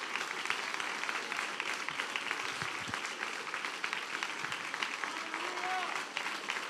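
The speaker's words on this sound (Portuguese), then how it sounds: "Aplauda o nome do Senhor Jesus, dê glória." Congregation clapping in praise during a Brazilian evangelical church service, steady moderate applause filling the room, with voices and faint singing underneath.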